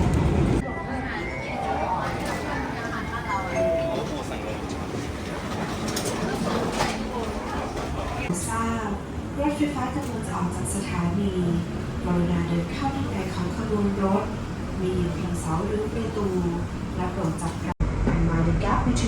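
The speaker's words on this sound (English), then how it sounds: "Mind the gap between the train and platform." Interior of a moving airport train with a steady rumble and hum, as people talk and a mind-the-gap announcement plays over the noise.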